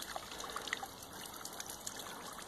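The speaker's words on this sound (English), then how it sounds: "It's just a wee waterfall." A small hillside waterfall or spring trickles near Belfast, a faint, close, continuous dribble of water with light splashing and no voices.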